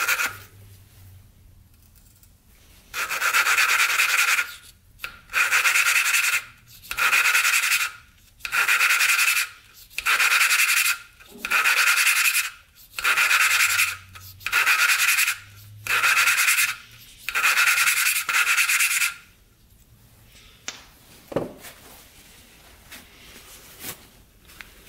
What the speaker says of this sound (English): We're gonna stick the valve in there. And then just very lightly grind these.